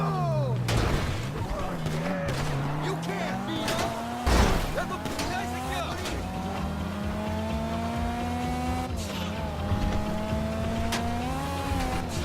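Heist car driving in GTA 5 Online, with engine revs rising and falling through gear changes, tyre squeals and a few sharp impacts, while a voice talks over the driving.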